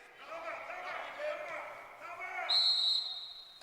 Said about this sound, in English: And now a whistle and a timeout taken by Rich Brunson.